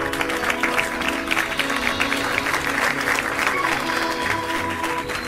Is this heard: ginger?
no